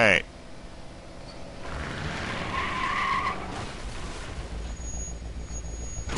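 A car drives in the Sam and Max adventure game, its engine rumbling steadily with a sustained skidding, tire-squealing tone rising midway, loud and continuous with game background sounds.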